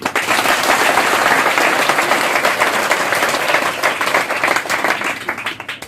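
Loud applause from a crowd at a nighttime jagran at a Baglamukhi temple, dense clapping that swells early, then gradually thins into scattered claps, close and full.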